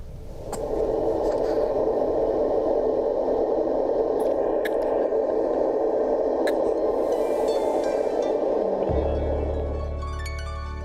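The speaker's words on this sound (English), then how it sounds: "we're going to put some white noise on now so you can see what it sounds like" A steady hiss of white noise plays loudly for several seconds, joined by a low hum near the end.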